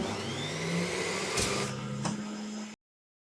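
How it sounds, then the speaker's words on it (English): Juice maker machine motor running as it juices potatoes, a steady loud whine with a couple of brief thumps, cutting off abruptly near the end. "I need to use a juice maker machine to make potato juice."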